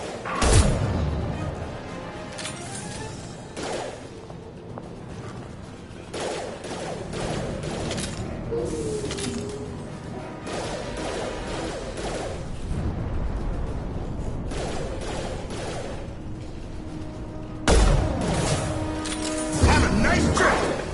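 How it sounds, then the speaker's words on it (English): Gunfire and explosions from the video game Mass Effect 2 come in bursts of loud blasts and crashing impacts with brief lulls between them, while voices speak throughout the combat. "Firing now."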